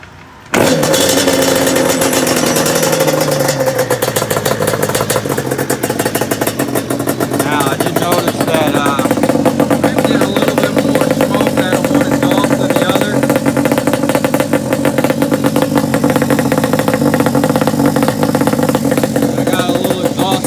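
A 90-plus horsepower Yamaha Banshee quad running on choke after a cold start, a loud continuous two-stroke engine drone with a steady buzzing rattle throughout.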